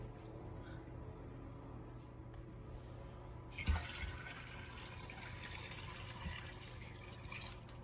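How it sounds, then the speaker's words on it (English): Tap water running into a pressure cooker pot with cider vinegar and bones, starting abruptly midway as a steady, close splashing rush that fills the rest of the clip over low background hum. "fill the whole thing up with water to your max line"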